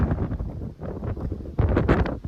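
Gusty wind buffets the microphone in rough, uneven blasts on top of Shivagange hill, loud and close, strengthening toward the end.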